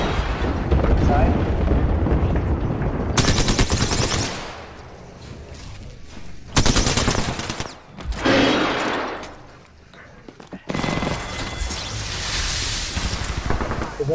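Enemies fire on the player in the Apex Legends battle royale game on PS4, with dense bursts of rapid gunfire and booming impacts cutting in and out between quieter gaps while players talk over it.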